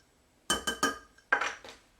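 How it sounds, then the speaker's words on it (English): A whisk clinks against a bowl while sugar, brown sugar and cinnamon are mixed, two quick bursts of rattling metallic taps, close and distinct with quiet between them. "whisk those together"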